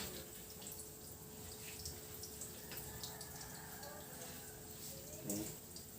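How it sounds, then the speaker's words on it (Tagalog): A shower runs steadily as water is sprayed to rinse and clean a wound, a faint, even hiss with soft splashing, heard alone throughout. "need to do is to turn on the shower."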